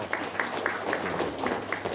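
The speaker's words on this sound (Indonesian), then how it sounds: "Tepuk tangan dong, wow." A small audience claps along with light percussive hits and faint cheering, a steady patter of hands lasting about two seconds at moderate distance.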